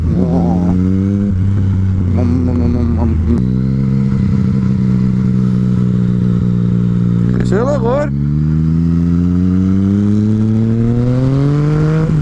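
A Yamaha MT-09 motorcycle engine rumbles close up, holding a steady idle, then climbing and swelling in sharp revs before settling into a long rising pull, loud throughout, with a rider's brief remark over it.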